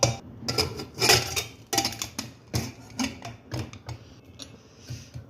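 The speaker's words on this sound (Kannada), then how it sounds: "ಕುಕ್ಕರ್ ಮುಚ್ಚಿ ಎರಡು ಸಿಟಿ ಹೊಡೆಸ್ಕೊಂಡ್ರೆ ಸಾಕು" A pressure cooker being closed in a home kitchen while cooking horse gram gravy: a run of sharp metallic clinks, scrapes and clacks from the lid and pot, close and fairly loud, with brief quieter pauses between.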